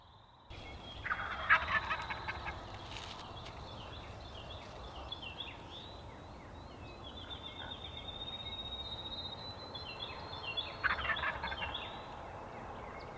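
A wild turkey gobbles outdoors, its rattling calls rising in short bursts at the start and again near the end over steady background ambience with other faint bird sounds.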